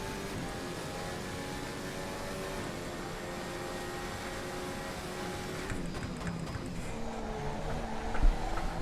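Ferrari F14 T Formula car in Assetto Corsa racing through a corner, a steady high-pitched engine whine with shifting tone, tyre noise creeping in near the end, no talk.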